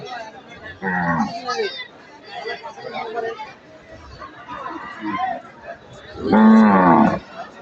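Cattle at a busy village cattle market in Jamsha low loudly and nearby, with one moo early on and a longer, stronger one near the end, over a steady babble of crowd chatter.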